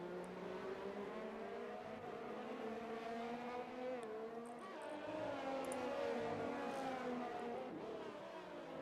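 Formula 1 race cars in the F1 2020 video game, an esports league round at the Netherlands circuit, drone on with steady layered engine whine throughout, a continuous dense field of motors without pause.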